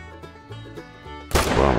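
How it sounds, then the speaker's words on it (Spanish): A single loud, sharp rifle shot in the hunting game theHunter: Call of the Wild bursts out near the end, following a stretch of steady tonal game music. "A ver si puedo hacer otro disparo"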